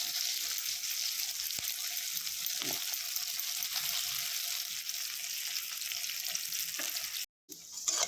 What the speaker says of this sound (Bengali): পেঁয়াজগুলো পুরো লাল লাল করে ভাজা হয়ে গেছে